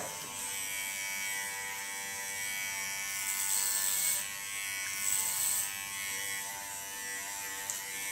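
Electric hair clipper running steadily while cutting hair for a Chelsea punk rock style, a continuous close, even buzz with slight swells in intensity and no voices.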